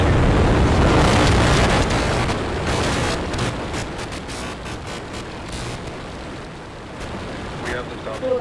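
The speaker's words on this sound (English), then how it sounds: "The rumbles are still building here in the Raptor's nest." SpaceX Starship Super Heavy rocket engines roar at launch from the Starbase launch site, a loud broadband rumble that swells at the start then settles into a steady crackling roar with sharp pops.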